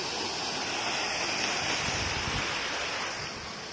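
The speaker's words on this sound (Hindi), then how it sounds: "वाह यहाँ पे झरना देखिए इधर।" A waterfall at Diphu park in Assam roars as a steady, broad rush of falling water with some wind noise on the microphone, constant and loud before easing slightly at the end, with no talk.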